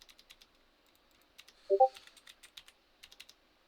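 A computer keyboard gives quiet, close clicks in short bursts of typing, with a slightly firmer keypress near the middle, like Enter being hit. No one speaks.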